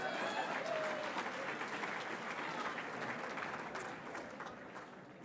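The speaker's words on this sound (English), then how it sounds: "Give yourselves a round of applause." Leadership gala audience giving a sustained round of applause, many hands clapping in a steady roar that slowly fades toward the end; no talk over it.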